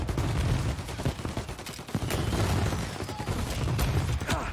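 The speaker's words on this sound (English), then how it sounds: "There's somebody with a Tommy gun there." A Tommy gun fires in the crime game Mafia Definitive Edition: rapid, continuous bursts of crackling gunfire at moderate distance, layered over a dark, rumbling backdrop.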